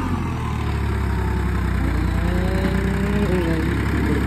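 A tractor engine runs steadily during field ploughing, a continuous low, loud drone with a mid-range rattle that holds for the whole stretch, with no talk over it.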